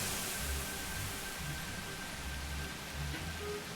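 Steady rain hiss in the video game The Universim, a constant broadband wash with soft low rumbling underneath, holding evenly throughout with no talking.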